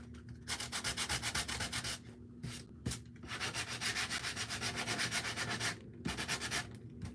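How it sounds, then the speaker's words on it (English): A small alligator-style electric detail sander buzzes against wooden decor to distress it, in a steady pulsing whir broken by short pauses where it stops and restarts, close and alone without speech. "sand it a little bit. I'm going to get out my little alligator detail distressor sander."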